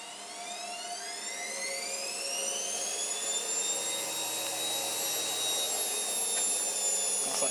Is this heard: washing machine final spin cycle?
yes